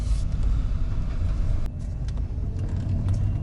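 A car drives out of a roundabout in Zhytomyr, a steady close road rumble with traffic noise throughout and no voices.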